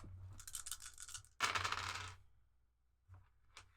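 Dice roll in a video game with two quick rattling clatter bursts, close and crisp, followed by a short pause and a couple of small clicks as they settle.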